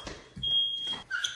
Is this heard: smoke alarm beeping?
yes